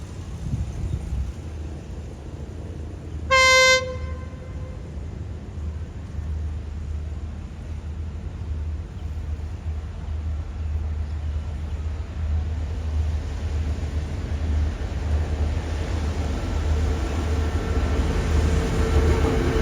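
A train hauled by a QSY locomotive near Ban Pong station, steady low rumble and rail noise throughout with a single loud horn blast early on, continuous and fairly close with wind buffeting.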